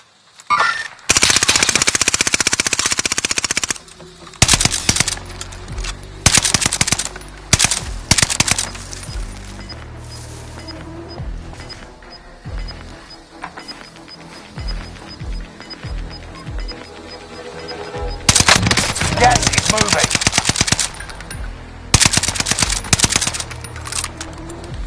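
Rapid automatic gunfire from the video game Warzone, loud and close, in several long sustained bursts separated by shorter volleys and single shots, with brief quieter gaps between.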